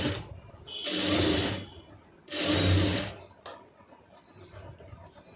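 Sewing machine stitching blouse fabric in two loud, steady bursts of rapid mechanical whirring, each about a second long, separated by pauses with faint clicks and handling noise.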